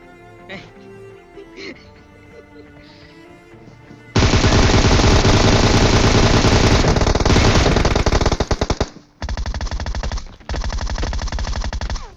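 Gunfire in a video game: long bursts of rapid, loud automatic fire dominate after a quieter stretch, then break off and resume in further close, dense bursts.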